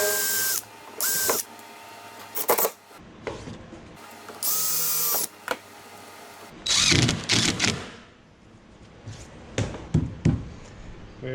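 Bursts of a power drill whirring on and off as it bores a hole in an aluminum armature, with clicks and knocks of metal handling between runs, close by.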